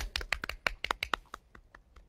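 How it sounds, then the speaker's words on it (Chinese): A small audience at a livestreamed event claps to welcome a guest, producing a short burst of sparse, irregular handclaps that thins out and fades. "掌声有请。"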